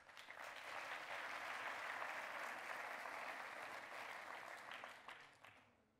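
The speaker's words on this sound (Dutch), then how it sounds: "Eerst jullie applaus voor onze dagvoorzitter" Applause at an agricultural annual congress welcomes the chairwoman, a broad crowd of clapping that swells, holds steady and then fades out, heard faintly at a distance.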